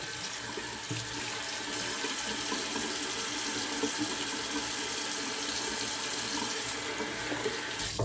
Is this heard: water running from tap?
yes